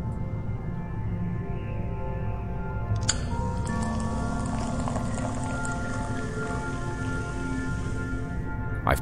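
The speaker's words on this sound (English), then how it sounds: "I've poured the beer down the drain." Beer pours down a drain inside a hibernation chamber in the Morningstar game: a steady wet splashing rush starts abruptly and runs continuously over a low ambient hum, close and fairly loud.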